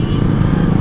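A Suzuki GSX motorcycle in poor condition, with a bad-sounding engine, gives a loud, rough, continuous drone heard close by on the road.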